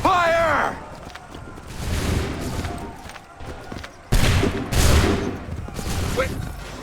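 Musket volleys and battlefield commotion during the Lexington and Concord battle in Assassin's Creed III, with loud cracks of fire, shouting voices and footsteps layered together, the heaviest blasts coming in the second half.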